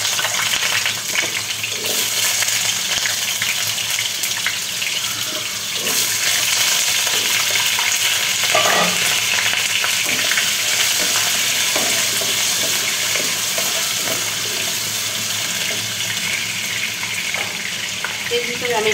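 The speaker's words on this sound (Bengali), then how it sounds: "এখানে আমি প্রথমে এই কেটে রাখা আলুগুলো একটু ভেজে নেব তেলে।" Cut potatoes frying in hot oil in a pan for a chicken and vegetable curry, a steady broadband sizzle that runs without a break, with occasional stirring clatter.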